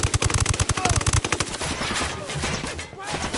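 Machine gun fire in the video game Ghost Recon Wildlands: a rapid burst of loud automatic shots in the first second or so, then a dense, sustained rattle of firing mixed with other battle noise.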